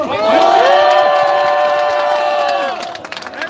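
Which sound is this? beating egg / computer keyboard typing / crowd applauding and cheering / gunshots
crowd applauding and cheering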